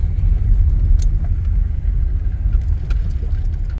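A car rolling slowly through a potholed parking lot at a dead outlet mall in Monroe, Michigan, with a loud steady low rumble of engine and tires and occasional small rattles and knocks.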